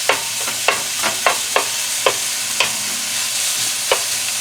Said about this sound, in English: I'm going to go ahead and throw this meat in there. Break it up a little bit.